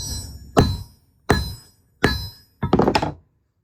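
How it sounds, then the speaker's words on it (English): A coated cast bullet is struck in a smash test, with three separate heavy metallic thunks at an even pace and then a quick cluster of blows, close and loud. "About to do a smash test just to make sure"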